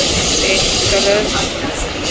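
A loud, continuous hiss and rumble of a moving Mumbai local train, with a faint metallic squeal and muffled voices underneath.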